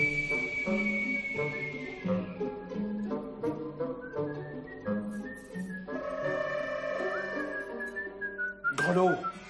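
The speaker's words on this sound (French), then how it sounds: "t'en as pas marre de siffler?" A man whistles a wandering melody of sustained and sliding notes for several seconds, close and clear, with some low background murmur underneath.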